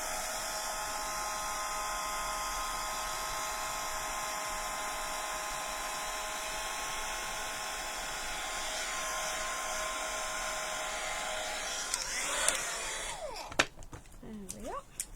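Dryer blowing steadily to dry glue on a laser-cut birdhouse piece, a continuous loud whirring hum that holds throughout, with a few clicks and handling knocks near the end.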